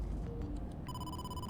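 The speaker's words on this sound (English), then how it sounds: "Conveniently, a phone call at the exact moment that we ran out of dialogue options." Electronic phone ringtone in the video game AI: The Somnium Files, a steady sustained tone stack starting partway through over a low game background hum, no talking.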